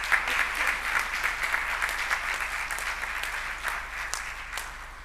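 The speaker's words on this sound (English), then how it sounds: "I think she deserves another round of applause." Conference audience applauding a dance performance by a renowned artist, sustained full-room clapping at steady strength, gradually easing, with faint voices underneath.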